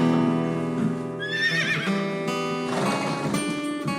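A horse lets out a shrill, wavering whinny over steady background music, followed by a quicker burst of clattering hoof sounds close by.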